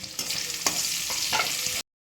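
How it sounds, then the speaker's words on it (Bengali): Onions sizzle steadily in hot oil with whole spices and asafoetida for a soybean dish, with a few scraping stirs cutting through before the sound stops abruptly. "এবারে আমি পেঁয়াজ দিয়ে দিচ্ছি।"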